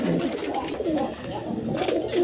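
Quality pigeons, a male and a female pair, coo in low, throaty, rolling calls close by, with the cooing running continuously through the short stretch.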